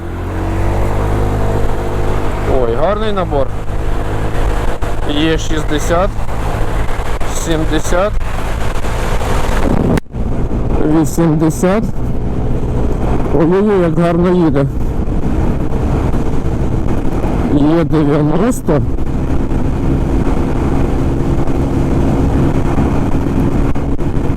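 A Honda SH Mode 125 fuel-injected scooter on a test ride, its engine droning steadily under heavy wind noise with repeated throttle pulls that rise and fall in pitch.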